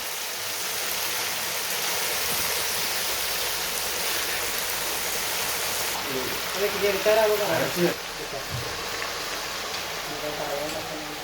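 Traditional homemade hair oil boils in a pan, a constant close hiss and bubbling roar with a brief murmur of a voice partway through.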